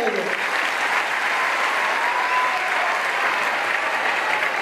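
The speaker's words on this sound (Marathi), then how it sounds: "एकदा सगळे टाळ्या वाजवू" A crowd at a public health camp event applauding, a dense, even wash of clapping held steadily throughout at moderate distance.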